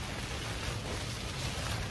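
Heavy rain falls steadily at an overnight campsite on Mt. Batulao, a dense, even wash of hiss with no break, heard alone without voices.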